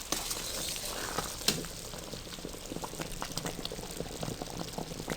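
Melted ghee being poured into a pan of hot sugar syrup for makhandi halwa, a continuous bubbling, pattering liquid sound with small crackles, close and without talk.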